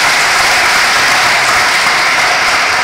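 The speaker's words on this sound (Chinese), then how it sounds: "拜托大家给我们现场模范父亲跟好人好事代表一个大大的掌声好不好" Loud, dense audience applause at an award ceremony honouring model fathers and good-deed representatives, a continuous wash of many people clapping with no break.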